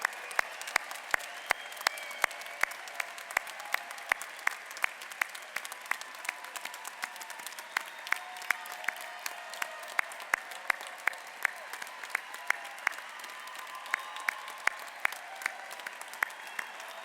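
Graduate commencement crowd at Seattle University applauding new master's and doctoral degree recipients; sustained clapping from a large audience with a few sharp nearby claps standing out, steady throughout.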